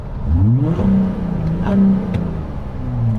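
A VW Amarok V6 pickup engine, stage 2 tuned with DPF and EGR removed, revs hard several times, the exhaust roaring up and falling back in loud, close bursts.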